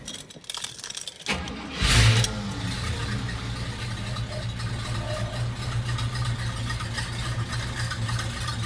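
A hearse engine that is running poorly cranks and catches with a burst of noise, then settles into a steady, low rumbling idle close by.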